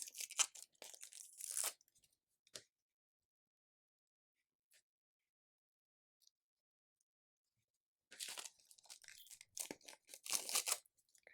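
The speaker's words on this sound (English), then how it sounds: "Just get these last couple of stickers in place." Stickers peeled and pressed into place make crisp crinkling and tearing rustles, one close burst at the start, a single soft tick, then quiet before another run of crackly peeling near the end.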